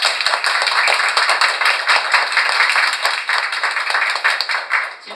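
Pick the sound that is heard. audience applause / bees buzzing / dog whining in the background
audience applause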